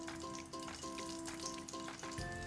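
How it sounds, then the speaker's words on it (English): Butter and vegetable oil sizzle in a pan on high heat while veg Hakka noodles are made, a steady crackling hiss under a faint repeating background tune. "of vegetable oil in the pan, and I will be putting a teaspoon of butter into it"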